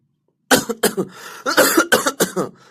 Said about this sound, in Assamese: কাহ হৈছে, বহুত কাহ